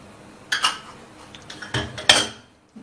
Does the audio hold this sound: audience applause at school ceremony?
no